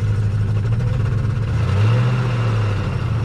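A big engine pulled from a junkyard Suburban, destined for an off-road wrecker, runs at a steady idle nearby with a deep low hum and a slight swell in pitch partway through, with no talking.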